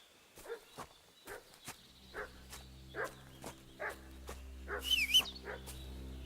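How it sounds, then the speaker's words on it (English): A dog barks repeatedly at a steady pace, a dozen or so short sharp barks at moderate distance, over a low droning hum and a brief chirping near the end, in the medieval game Kingdom Come: Deliverance II. "What's that dog making such a fuss about?"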